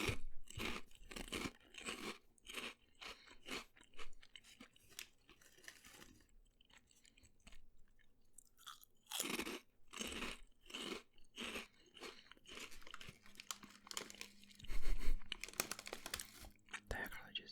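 Pepper-flavoured crisps crunch and get chewed close to the mouth in rapid irregular bites, with brief pauses, and a quiet voice murmurs in between.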